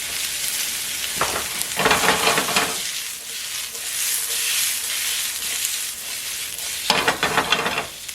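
Whole wheat kimchi noodles toast in a hot pan with a steady close sizzle and frying hiss, broken by louder scraping bursts of stirring near the start and again toward the end.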